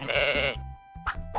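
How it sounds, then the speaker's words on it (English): A sheep bleats once, a loud wavering cry up close, followed by shorter bleating sounds right after. "It's a sheep."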